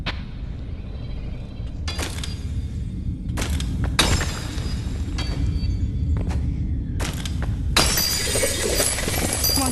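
Mining in the VR game Animal Company, with repeated loud crunching, shattering impacts, several sharp hits and a longer crumbling burst near the end, over a constant low rumble and no talking.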